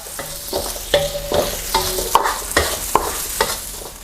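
Tofu and chopped sweet preserved radish stirred and tossed in a hot pan for pad thai, with steady sizzling and repeated scraping strokes close by, no voices.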